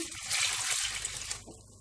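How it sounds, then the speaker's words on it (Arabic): Sugar water poured from a container into a baking tray of sweet potatoes, a brief steady splashing pour under two seconds long, close by, with no talking. "وهجيب بقى المية اللي هي المسكر دي وهحطها في الصينية كلها كده"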